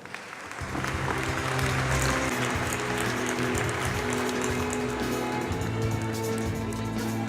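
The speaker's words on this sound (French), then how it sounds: "Qu'on applaudit, s'il vous plaît." An audience at a gastronomy and wine award ceremony applauds steadily after a sudden start, a full wash of clapping over music playing beneath it.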